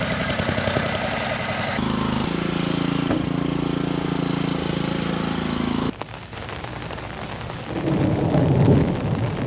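Deep thunder rumbles through a rainy outdoor job site during yard flooding drainage work, a steady low roar carrying across the whole stretch and swelling louder near the end.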